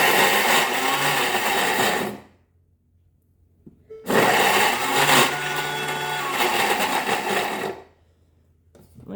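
A blender set near speed 9.5 grinds garlic for toum in two loud, steady bursts of about two seconds and three and a half seconds, separated by a short silent pause.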